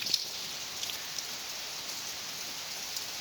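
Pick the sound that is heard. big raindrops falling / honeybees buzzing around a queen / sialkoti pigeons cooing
big raindrops falling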